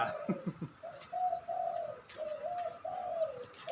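A spotted dove coos in a series of soft, rounded, repeated notes, fairly close and clear over quiet outdoor background, with a few faint chirps mixed in.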